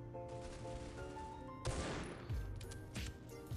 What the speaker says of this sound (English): Is he shooting randomly?